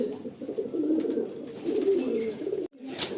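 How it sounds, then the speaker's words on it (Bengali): Andhra pigeons coo in a loft, a steady low murmur of overlapping calls from several birds nearby, broken by a brief gap near the end. "দাদার লফটে যা বুঝতে পারছি পায়রা অনেক আছে"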